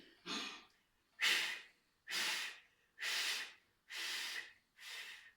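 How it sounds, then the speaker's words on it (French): Six forceful nasal exhalations during a face-cleansing breathing exercise with the ears pressed shut, evenly spaced, close and loud, with no talking. "on ferme les oreilles et on expire"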